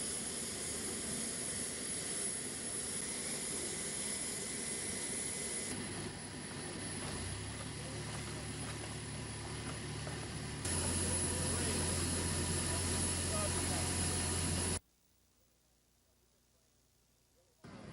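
A powered hang glider with a 9-horsepower engine drones steadily with a buzzing motor tone that shifts pitch, then cuts off abruptly to near silence.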